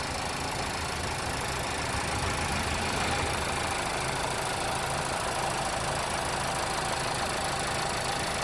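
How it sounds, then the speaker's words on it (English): The 4-cylinder engine of a 2021 Nissan Altima SL idling, a steady, even hum heard close with no change in level and no voices throughout. "This little 4-cylinder really runs smooth."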